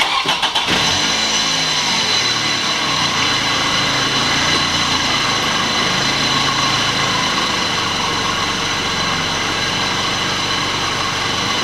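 A car engine cranks briefly and catches, then settles into a steady, loud idle that runs on close by without any talk.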